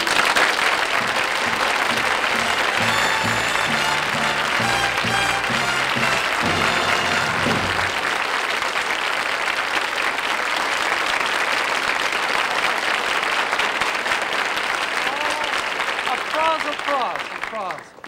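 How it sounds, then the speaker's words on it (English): A studio audience at a television variety show applauds loudly and continuously, with music audible early on before the clapping carries on alone. "Applause."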